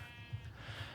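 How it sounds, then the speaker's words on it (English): Minecraft sheep give short, close bleats, two or three quick pulses over about a second, loud and alone with no talk. "there's another sheep"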